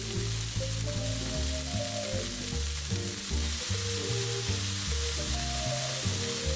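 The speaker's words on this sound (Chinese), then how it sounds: "玉米、青豆和胡萝卜粒下锅炒熟，盐和黑胡椒调味" Corn kernels, green peas and diced carrot fry in oil in a wok, giving a steady, continuous sizzling hiss with faint stirring beneath a layer of music.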